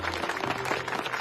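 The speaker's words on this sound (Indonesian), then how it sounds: "Mana tepuk tangannya?" A crowd applauds on request at a school gathering, a steady wash of many hands clapping that stays even throughout its short length.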